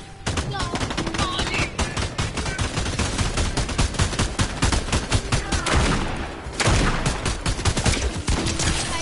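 Rapid, loud gunfire from the video game Fortnite in dense automatic bursts with almost no gaps, broken by one short lull near the end before the shooting resumes.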